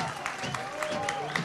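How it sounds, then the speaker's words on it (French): The stand at Stade Chandon applauds during a Gambardella youth cup match between RC Épernay Champagne and Stade de Reims, with brief scattered clapping from the crowd beneath a commentator talking. "Applaudis d'ailleurs par la tribune ici du stade Chandon."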